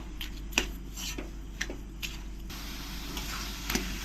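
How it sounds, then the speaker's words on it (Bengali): A coconut, jaggery and sugar mixture for coconut laddu is stirred in a pan over a medium flame, giving soft scraping and occasional light clinks of the spoon against the pan, steady and close, with no talking. "এবার আমি এর মধ্যে খুব সামান্য একটুখানি জল দিয়ে দেবো গুড়টা চিনিটা গলার জন্যে দিয়ে ভালো করে আবার এরকম করে নাড়তে থাকবো"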